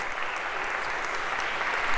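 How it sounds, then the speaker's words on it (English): An audience claps steadily, a dense wash of applause that holds throughout and swells slightly near the end. "a round of applause for our brave volunteers"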